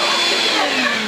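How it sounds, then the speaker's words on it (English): A vacuum cleaner runs at home in a loud, steady whining roar with a broad airy hiss, close and continuous throughout the short moment. "But your dad usually likes it when I vacuum, like this, see?"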